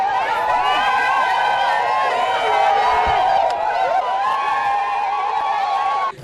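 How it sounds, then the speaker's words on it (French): A large, furious crowd protests outdoors, a dense mass of overlapping shouting voices that rises and falls continuously, fairly loud and close, with a brief sharp knock partway through. "Cette foule en furie manifeste sa colère et son indignation"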